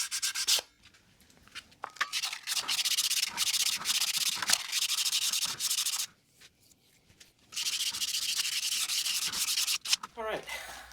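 150-grit sandpaper scuffs the brake shoes and drum of a 1974 Yamaha RD200A motorcycle: close, raspy back-and-forth rubbing strokes in three long bursts separated by brief pauses.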